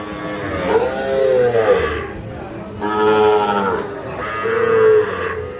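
Shahiwal bull calves at a Noakhali cattle market give three long, loud moos in turn, close by, with faint crowd noise between.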